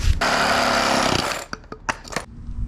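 A power saw cuts through a length of plastic pipe in a loud, steady burst of about one and a half seconds, followed by a few short clattering knocks and a quiet tail.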